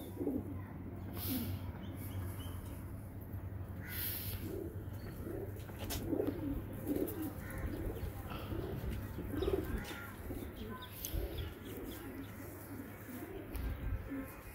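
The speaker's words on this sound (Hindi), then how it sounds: "जी सियालकोटी चूहा कबूतर" Sialkoti pigeons coo in soft, repeated low calls close by, with occasional chirps and a continuous low hum beneath, while someone speaks intermittently.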